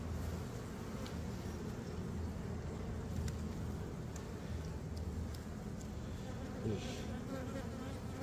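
Honey bees buzz in a steady, dense drone around an open hive during an inspection, a continuous close hum with no voices.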